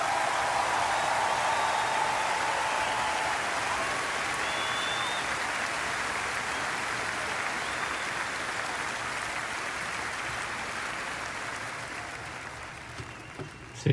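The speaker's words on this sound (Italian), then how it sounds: "Give her an enormous applause." A large audience applauds a singer, sustained and loud, a dense wash of clapping that holds steady for many seconds before slowly thinning and dying away.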